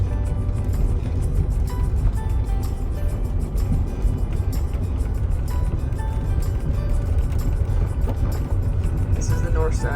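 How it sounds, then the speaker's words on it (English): A car driving to a trailhead on the north side of Big Bear, with a steady low road and engine rumble continuing throughout and no one speaking. "Driving to the trail."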